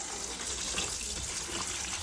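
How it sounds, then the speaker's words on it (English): Hermès silk scarf rinsed by hand under cold running tap water, a steady, close, full gushing rush with faint sloshing, heard alone without any talk. "I'm just doing rinsing in cold water"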